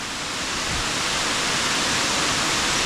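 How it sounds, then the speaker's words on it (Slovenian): The upper waterfall at Gjipe, Albania, roars as a steady, loud rush of falling water that stays even and close throughout, with no voices. "Ampak najlepši pa zgornji slap."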